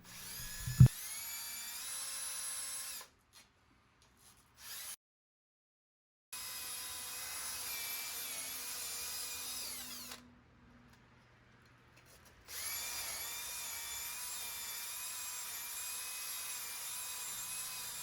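A power drill whines with an abrasive wheel hub resurfacing attachment grinding a wheel hub, running in several long bursts separated by brief silent pauses.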